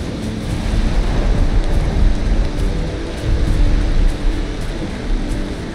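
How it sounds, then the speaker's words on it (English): Steady, dense rain pours down in the video game Valheim, a continuous broadband hiss with a deep rumbling low end, loud and unbroken throughout with no talk. "I just want to get in out of the rain."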